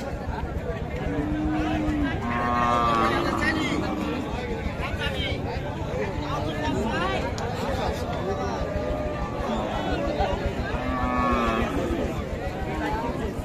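Cattle lowing at a busy rural livestock market in Ranigonj, Dinajpur, with cows and dairy cows for Eid sale; several moos rise over a constant crowd babble and nearby talking.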